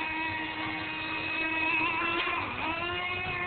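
A small nitro engine on an RC monster truck idles and hums with a steady buzzing drone and a brief pitch dip near the end, moderately faint, with no talk.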